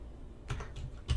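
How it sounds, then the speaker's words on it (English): Typing on a computer keyboard, a few quick close key clicks in two brief bursts, quiet and alone. "So we're going to type in backslash title and let's call it Introduction to"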